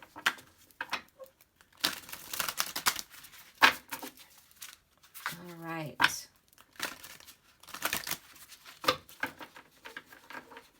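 Crisp bursts of tarot card shuffling, papery riffles and crinkles in several quick rounds, close by, with a voice speaking briefly between them.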